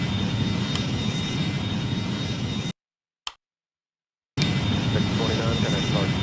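Boeing MD-90 jet engines taxiing in the game Airline Commander, a steady broadband whine and rumble with a thin high tone, cut off by a gap of near silence with a brief blip before the engine noise resumes.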